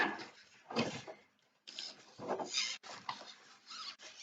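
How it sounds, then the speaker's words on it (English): Small servo in a foam RC model airplane wing whirring in short bursts, several brief buzzy movements separated by pauses, close and fairly quiet. "sounds like that servo works all right"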